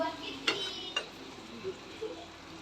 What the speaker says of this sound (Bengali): এখন আমি এগুলোর সাথে ঘেঁটে দিব।